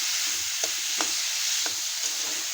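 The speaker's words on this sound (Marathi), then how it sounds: "टोमॅटो शिजेपर्यंत परतून घ्यायचं." Mushrooms and tomato sautéed in a pan, a steady soft sizzle with a few light scraping stirs of the spoon, close and alone.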